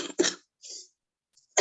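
A person with a sore throat, feeling unwell during a prayer meeting, gives a sharp, close cough followed by a softer raspy throat sound and another brief cough onset.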